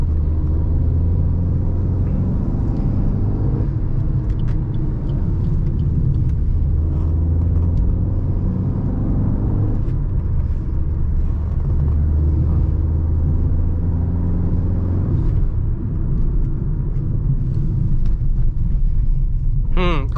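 A Maruti Ertiga CNG car on the move gives a steady, close low rumble of engine and road noise inside the cabin, holding level throughout with only slight swells, and voices are faintly present at times.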